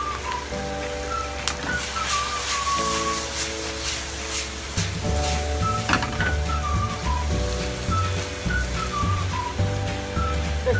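Chicken gizzards stir-fried in a pan with sugar and dark soy sauce give a continuous sizzle with faint stirring, running steadily beneath louder background music.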